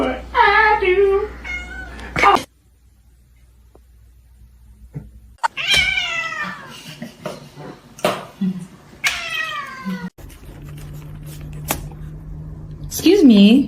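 Several kitten meows, high and wavering, come in short bursts separated by quiet gaps, loud and close, with a drawn-out cry at the start and end and brief speech mixed in.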